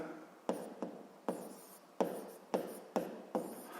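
A pen writes in a notebook in short scratchy strokes, seven distinct bursts at a brisk, uneven rhythm, close and quiet.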